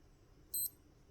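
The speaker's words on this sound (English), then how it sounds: "it has a very long beeping sound" A Q&Q M196 digital watch gives one clear, sustained electronic beep lasting a fraction of a second, sharp and close against a quiet background.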